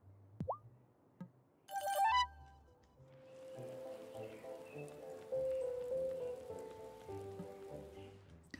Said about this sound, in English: I can leave the door open, listen to the rain